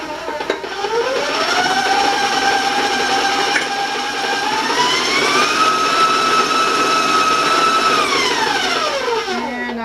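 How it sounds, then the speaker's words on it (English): Electric mixer beating butter with brown sugar for chewy chocolate chip cookies: a loud, close motor whine that climbs in pitch, holds steady, shifts up again, then winds down at the end. "You're also going to be beating in 3/4 of a cup of brown sugar."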